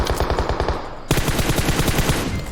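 Automatic rifle fire in PUBG Mobile rattles out in fast, even bursts, loud and close, with a brief pause before the shooting resumes.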